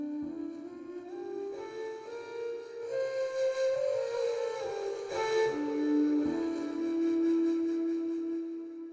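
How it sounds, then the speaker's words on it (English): A Mixolydian scale, a major scale with a flattened seventh, played as a steady run of single melodic notes stepping upward and back over a sustained low tone, moderately loud with no voices. "another option for the major is to have the flat 7, and that's the Mixolydian scale"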